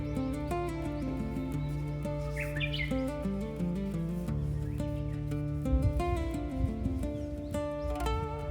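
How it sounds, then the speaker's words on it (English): Birds chirp and twitter faintly in the countryside of Wakayama, Japan, partly masked by sustained tonal music throughout. "Gotta love the sound of this place. The birds in this area,"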